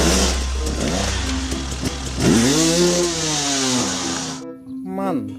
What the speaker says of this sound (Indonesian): Motor cross.